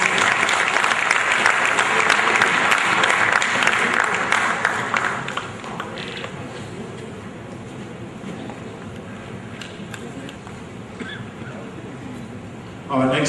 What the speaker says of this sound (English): Let's have a big round of applause for that as well.